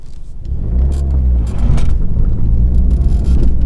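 A Mini R56 on air ride suspension drives along an open road, with a loud, steady low engine and road rumble from inside the cabin and occasional small rattles, no talking.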